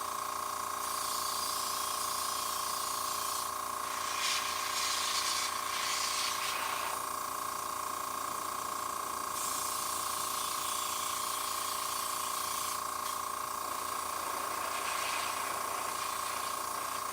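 An airbrush sprays paint onto Warhammer 40K terrain pieces, a continuous close hiss with a steady tonal whine from the compressor, swelling and easing in short bursts over the full length.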